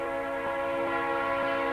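A passing train sounds a long, sustained horn blast, loud and close, with a steady multi-tone chord held throughout over faint rail rumble.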